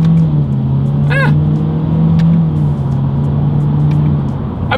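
A 2023 Honda Civic with a CVT, driven in Sport mode with paddle shifters, accelerates with a loud, steady low engine drone heard from inside. The pitch steps down slightly a couple of times, with a brief chirp early on. No one speaks.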